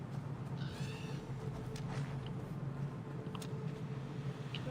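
A cat in the video game Assassin's Creed Valhalla meows a couple of times, fairly faint over a steady rumbling game ambience.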